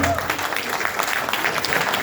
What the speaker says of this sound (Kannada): ಇನ್ನೊಮ್ಮೆ ಜೋರಾಗಿ ಚಪ್ಪಾಳೆ ತಟ್ಟಿ ಅವ್ರನ್ನ ಹುರಿದುಂಬಿಸಿರಿ